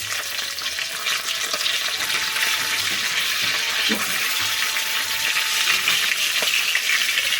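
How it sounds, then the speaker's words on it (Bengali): Fish frying in a pan gives a steady, close hiss and crackle of oil that runs the whole time, with a few small knocks and stirring sounds and no talking. "এদিকে এই যে মাছ ভাজা হচ্ছে।"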